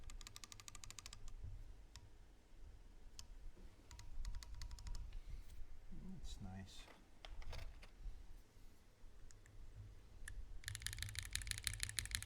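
Clacky keystrokes from a mechanical keyboard fitted with Thermal switches, coming in bursts of rapid typing with pauses between them, under steady background noise while people talk and react.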